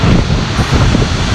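Wind gusts across the open viewing platform at Stuibenfall waterfall in Tyrol, a steady broadband roar close to the microphone mixed with rushing water and spray, with no voices.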